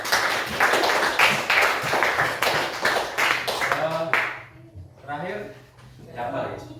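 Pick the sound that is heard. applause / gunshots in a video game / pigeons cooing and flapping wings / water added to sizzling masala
applause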